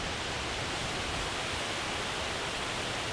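Seven Wells Waterfall on Langkawi Island roars as a dense, constant broadband rush, loud and close, with no voices over it.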